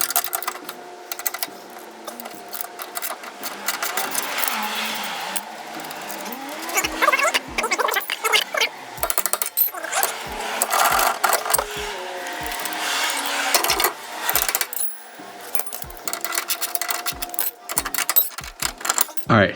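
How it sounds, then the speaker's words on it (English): Tools working on the coilover suspension of a Lexus IS300 while its bolts are loosened: dense metallic clatter with a run of sharp, irregular clicks and ratcheting taps, close and fairly loud. "Just loosen this bolt and then this bolt"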